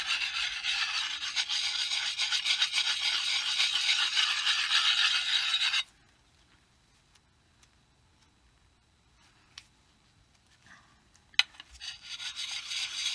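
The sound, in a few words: coarse sharpening stone on an axe edge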